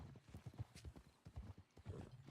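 Hooves of a horse in a video game clip-clop in a quick, steady rhythm, up close and fairly soft, with a brief whinny-like tone and no talk over it.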